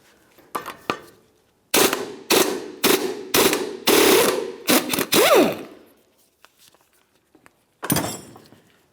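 Rapid bursts of an impact wrench, likely on a 24mm socket, removing a rusted lower control arm nut on a 2002-2005 Ford Explorer, several loud hammering runs in quick succession, then a pause and one final burst.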